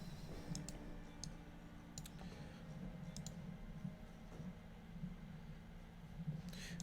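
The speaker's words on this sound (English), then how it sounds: "I have a mechanical keyboard" Mechanical keyboard typing during an online Age of Mythology tournament match, heard as faint, sparse clicks scattered over a low steady hum.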